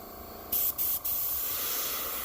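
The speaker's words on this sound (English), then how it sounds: "I've got white, titanium white in the gun. It is spraying beautifully now." Paint spray gun loaded with titanium white paint, a loud close airy hiss that starts abruptly, stutters twice in quick short bursts, then runs steadily.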